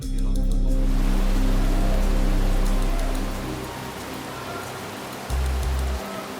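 Heavy rain pours down at Paddington Station during extreme weather, a dense hiss over a low rumble that eases partway through, followed by a brief low thump.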